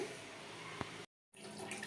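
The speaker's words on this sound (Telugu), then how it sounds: "ఇది మొత్తం పావు లీటర్ వాటర్ ఇందులో పోయాలి షుగర్లో పావు లీటర్ పోసుకొని" About a quarter litre of water pours into sugar for Bombay Karachi halwa, a steady, close rushing stream that cuts out briefly and then resumes at a similar level.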